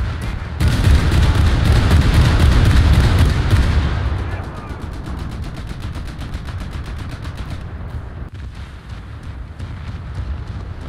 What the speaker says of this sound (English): It would seem we're already being shot at.